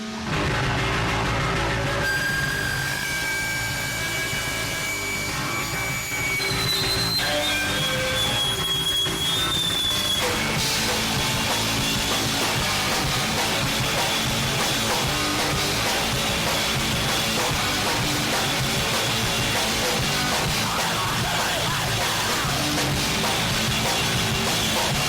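Loud, dense, distorted garage rock, with fuzzy guitars and pounding drums. The wall of sound carries straight through without a break.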